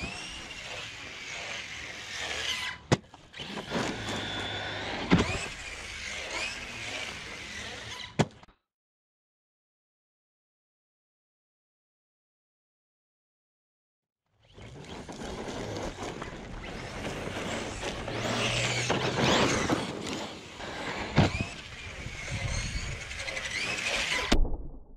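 A Team Corally Kagama 6S RC truck with M2C upgrades and a new drive shaft on its first run: a buzzing motor whine with drivetrain rattle fills two long stretches, split by several seconds of silence, with no talking.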